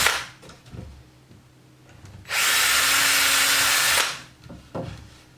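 A power drill whirs loudly for about two seconds, drilling through a 3D-printed jig, bracketed by scattered clicks and handling noises before and after.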